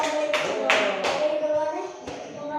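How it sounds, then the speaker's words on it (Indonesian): Children clapping in an Islamic religious-education classroom lesson: a few quick bursts of hand claps, near and moderately loud, over light classroom murmur and a steady hum. "tepuk tangan dulu"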